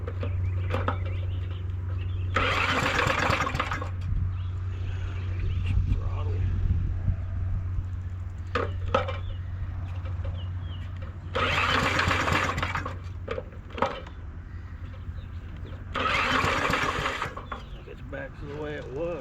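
A starter motor cranks an engine that will not start, in three separate loud whirring bursts of a second or two each. A low hum runs underneath, and voices talk between the attempts.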